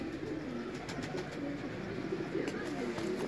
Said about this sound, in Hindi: ए गोल्डन कबूतर है